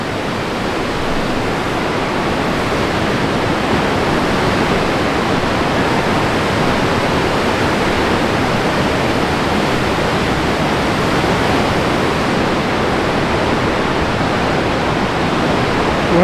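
The waterfall at Box Canyon Falls in Ouray roars with a loud, steady rushing wash of water, unbroken and close, with no voices over it.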